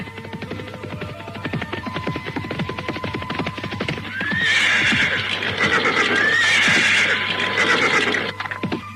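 A horse in a drama scene gallops with steady clip-clop hoofbeats, then loud neighs and whinnies ring out close by in the second half, all without speech.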